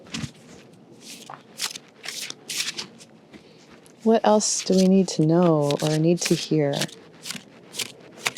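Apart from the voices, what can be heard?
shuffling oracle cards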